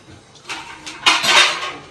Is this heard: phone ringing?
no